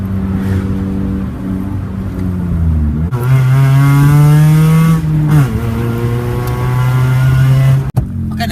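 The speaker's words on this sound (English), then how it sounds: "Here comes a perfect downshift." A manual car's engine revs sharply during a downshift, the pitch dropping then jumping up as the throttle blips, loud and close inside the cabin, then settling into a steady drone before a brief cut at the end.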